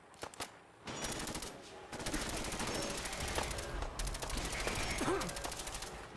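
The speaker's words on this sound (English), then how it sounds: "It's been a while since I used this gun." Sustained automatic gunfire from a weapon in the video game Fallout 4 rattles in rapid bursts with brief pauses, loud and close, with mechanical clicks at the start.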